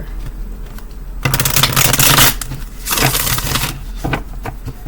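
A deck of cards is shuffled up close in two loud, riffling bursts separated by a short pause, with lighter card handling before and after.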